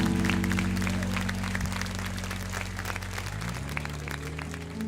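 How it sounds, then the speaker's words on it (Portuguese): A church congregation applauds during a worship service, steady clapping spread through the room over a sustained musical drone and low tones that shift partway through. "Tome posse aplaudindo ao Senhor Jesus"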